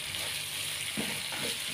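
Lemongrass stalks frying in a pan with a soft steady sizzle and faint scraping as they are stirred, quiet and close.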